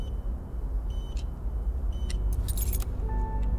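Keys jangling in the video game In Sound Mind, a few bright metallic jingles in short bursts over a low steady hum of ambience.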